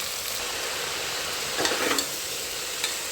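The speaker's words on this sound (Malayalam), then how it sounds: "സവോള ഇടയ്ക്ക് നന്നായി ഇളക്കി കൊടുക്കുക" Onions with rock salt sautéing in a pan for chicken curry, a steady soft sizzle throughout with a brief burst of stirring scrapes near the middle and a faint tap near the end, no voices.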